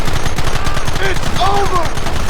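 Rapid bursts of gunfire crackle throughout a Red Dead Redemption shootout, dense overlapping shots and automatic volleys with a few voice-like tonal calls rising briefly in the middle.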